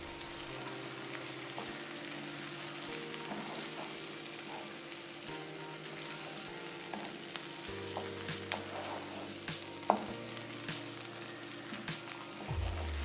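Tomato paste stirred in a pot for soup, a soft hiss and sizzle with faint scraping and occasional small clicks, quiet and steady, no talk.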